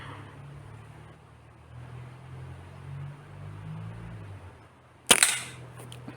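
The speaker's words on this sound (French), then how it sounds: "On tire deux plombs et on va vérifier." An Artemis CP2 .177 air pistol fires a pellet with a sharp, close crack near the end, after a quiet stretch of low background hum.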